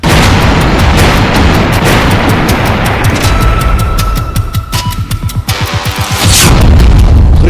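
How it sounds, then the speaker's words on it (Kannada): A truck bombing on a bridge in the Russia-Ukraine war, heard in news footage as a loud, heavy booming roar with a burst of rapid rumbling pulses partway through before the blast noise swells again. "ಸೇತುವೆ ಮೇಲೆ ಭೀಕರ ಬ್ಲಾಸ್ಟ್"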